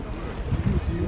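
Steady, blustery wind buffeting the microphone with a low, dense rumble throughout the short stretch.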